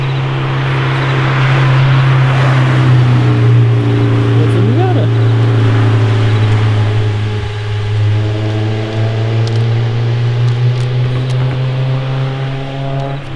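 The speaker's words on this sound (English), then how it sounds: "And there's the Porsche." A Porsche driving along a canyon road, heard as a loud, steady engine drone with a rising and falling pitch as it approaches and passes close by, with people talking over it.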